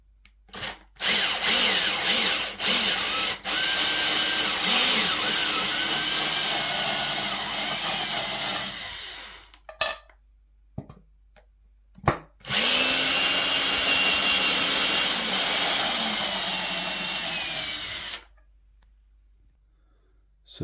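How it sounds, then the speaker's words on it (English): A power drill whirs close by as it backs screws out of the base of a wooden stand, two long runs of high motor whine separated by a pause with short bursts and clicks. "I'm actually going to start by unscrewing the 4 screws from the bottom that attach the uprights."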